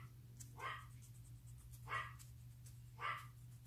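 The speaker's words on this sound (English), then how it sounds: "That's my dog." A small dog gives three sharp, high barks about a second apart, heard from a moderate distance over a steady low background hum.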